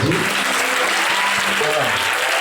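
Applause from a church convention congregation acclaiming Jesus, a dense, sustained clapping that fills the hall with a voice or two mixed underneath.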